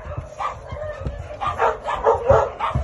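Several puppies at a shelter bark and yip in a quick, uneven run of short calls, some near and loud, others softer, with no talk over them.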